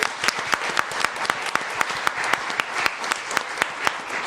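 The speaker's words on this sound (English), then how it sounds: "Give them a round of applause as well" An audience at a school district governing board meeting applauds steadily for faculty members and young state-champion athletes, with crisp, close hand claps that keep up through the whole stretch.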